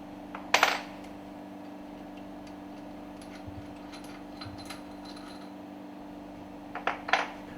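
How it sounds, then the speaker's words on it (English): Small metallic clicks and clinks of two screws being loosened and removed from a marine fuel pump cover, a sharp clatter near the start and another near the end over a steady low mechanical hum. "Loosen and remove the two screws."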